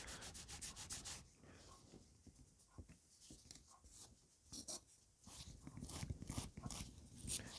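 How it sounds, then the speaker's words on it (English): Scratchy, rhythmic sanding strokes rub back and forth across balsa wood of a model plane, close up and fairly loud, with short pauses between bursts. "Just clean up that cut with a little bit of sanding, nice and square."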